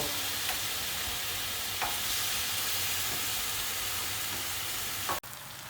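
Taco filling fries and simmers in a home pan, a steady dense sizzle throughout with a few soft spatula scrapes and a brief clunk near the end; no one speaks.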